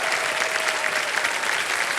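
Studio audience applause on the set of the Hindi quiz show Kaun Banega Crorepati, a steady dense wash of clapping at full level with no break, heard alone without talk.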